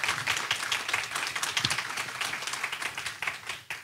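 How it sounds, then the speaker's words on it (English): Audience at a healthcare workforce symposium giving a round of applause for presenters and a panel, dense steady clapping from a roomful of people throughout. "can we please have a round of applause for our presenters and our panel?"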